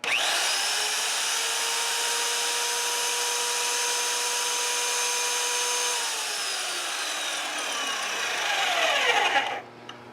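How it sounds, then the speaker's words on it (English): A drilling machine fitted with a long bit runs steadily with a high tonal whine, loud and close, then winds down as the bit slows near the end, with no talking. "got that long bit put in there, so we're gonna turn the machine back on"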